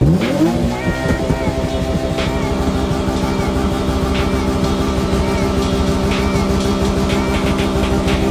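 A loud Nissan 350Z engine revs and holds at high pitch, droning continuously with slight rises, close and alone.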